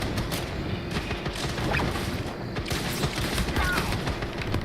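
Gunfire in the video game Firefall, with shots aimed at a decoy: a steady, moderately loud crackle of rapid shots with scattered sharp bursts over a dense background of combat noise.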